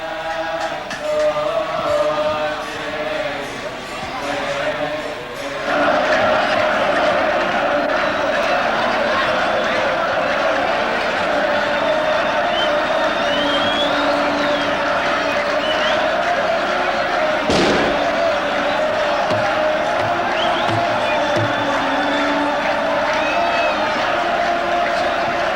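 A dense crowd at a Coptic religious gathering in Egypt, with a constant murmur of many voices and shuffling that swells after a quieter opening, plus a single sharp thump partway through.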